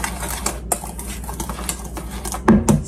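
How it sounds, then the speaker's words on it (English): A whisk clatters against a bowl while nutmeg is mixed into an apple pie filling, with steady scraping and a louder clink near the end. "We're going to whisk that together."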